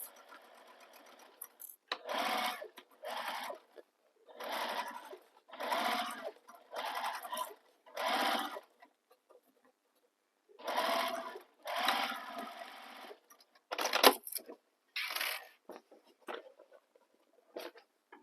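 A sewing machine stitching a bag seam with piping, running in repeated bursts of rapid whirring stitches separated by short pauses, close and loud, with no talking over it.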